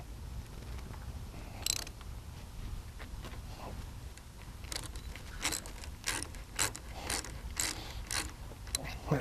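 Hose fitting being twisted tight on a Jabiru aircraft engine, producing a run of close, crisp ratcheting clicks and rasps, sparse at first and then quicker, over a low steady background hum.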